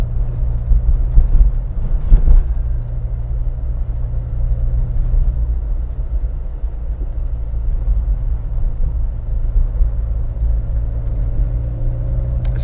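Triumph Herald 13/60 heard from inside the cabin on the move, a steady low engine drone and road rumble with faint rattles and a brief louder knock early on.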